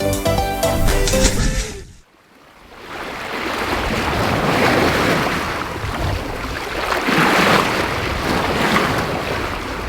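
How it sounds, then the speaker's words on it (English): A solo sailboat crossing the Caribbean in breaking waves and winds above 44 knots; a brief burst of music cuts to near silence, then a loud, steady roar of wind and surging surf fills the rest without a pause. "Experience pretty fun sailing in breaking waves and wind speeds above 44 knots in this famous part of the Caribbean."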